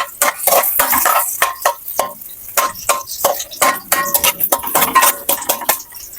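Chopped Bombay onion tossed into a pan of golden-brown garlic, with rapid clattering of a metal spatula against the pan and light sizzling, busy and close, no voices.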